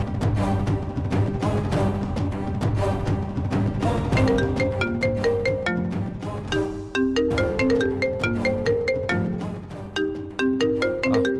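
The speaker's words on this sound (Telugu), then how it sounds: "అన్నయ్య ఫోన్ చేస్తున్నాడు." A melodic phone ringtone plays loudly and continuously, a repeating synthesized tune with percussive beats looping for several seconds.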